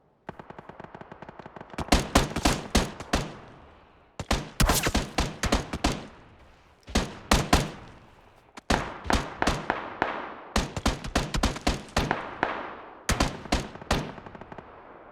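Automatic gunfire in the PUBG video game comes in repeated sharp bursts of rapid shots, each volley several seconds long with short pauses between, loud and close.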